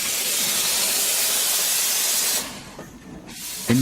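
An early nineteenth-century steam engine from the Industrial Revolution hisses loudly and steadily, a broad continuous roar of escaping steam that drops away abruptly near the end, leaving a quieter rush before a brief sharp sound.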